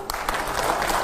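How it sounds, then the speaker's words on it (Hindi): Audience applause: a short burst of dense, close clapping from many people, starting with a few sharp claps and filling out into steady applause. "जोरदार तालियां हो"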